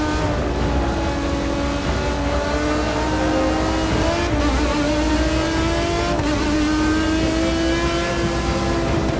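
Aston Martin race car engine in Forza Motorsport 6, a loud, steady howl that rises and falls through gear changes, with the pitch sweeping upward under acceleration and holding near and continuous throughout.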